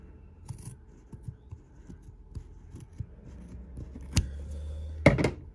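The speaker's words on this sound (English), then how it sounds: "So I'm going to take my scissors." Scissors trimming a sheet of paper for a Scandinavian folded star, with a steady series of soft, close snips and a louder rustle of paper near the end, in a quiet room.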